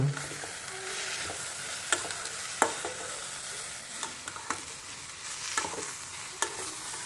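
Okra fries in a pan with a faint, continuous sizzle, while a utensil stirs it with light, scattered taps and scrapes every second or so.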